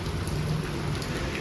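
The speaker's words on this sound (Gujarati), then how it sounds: "જો કેટલો વરસાદ પડે છે ગાઈઝ" Heavy rain falls outside a home in a continuous broad roar, dense and unbroken, with a low hum beneath and no voices.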